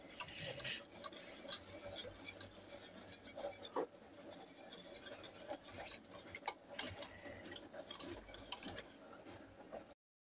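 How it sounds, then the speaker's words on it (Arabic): A utensil scrapes and rubs around a pot as chocolate is stirred into milk for a chocolate cake, a steady close rasping with small clicks, fairly quiet and with no talking. "نحرك مزيان حتى ينسجم مع الشوكولا يذوب في داك الحليب"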